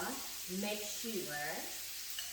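Spinach sizzles in a hot pan, a soft continuous frying hiss beneath a voice that talks over it throughout.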